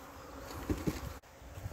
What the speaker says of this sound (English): Bees are continuing to come in and out of that.